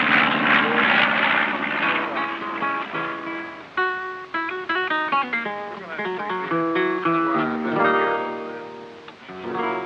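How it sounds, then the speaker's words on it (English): A Messerschmitt aircraft's engine drones while flying, a steady tonal roar shifting in pitch as it passes, loud and continuous for the full ten seconds under background music. "It's fun to fly this aircraft."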